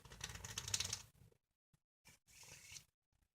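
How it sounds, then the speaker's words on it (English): A deck of playing cards being shuffled by hand, quick riffling bursts of crisp flicking and clicking, close and quiet, in short separate runs with pauses between. "We'll just give the deck a little shuffle."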